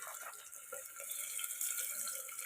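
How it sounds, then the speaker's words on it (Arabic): Chopped onion going into heated oil in a pan for Egyptian koshari gives off a faint, steady hiss and sizzle, a soft watery crackle throughout with no voices. "خلاص الزيت ابتدى يسخن معايا كده، هنزل بيه بقى ايه بالبصل"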